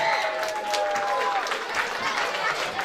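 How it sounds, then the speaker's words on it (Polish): Children clap and cheer for Santa Claus arriving at a sports club's St Nicholas Day party in Środa Śląska, a steady, dense burst of applause with shouts and chatter mixed in throughout. "O, brawa wielkie, jest Mikołaj."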